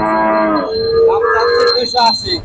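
A Holstein Friesian dairy cow at a cattle sale moos loudly nearby, one long, drawn-out lowing call that rises and wavers, with no talking over it.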